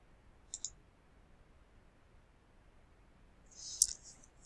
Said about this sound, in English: Then I'm going to click on download.